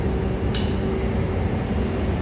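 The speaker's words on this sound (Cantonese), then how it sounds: "The train to Kennedy Town is arriving." An MTR Island Line train arrives at the Admiralty station platform in Hong Kong, heard as a steady, loud rumble filling the space, with a brief hiss near the start.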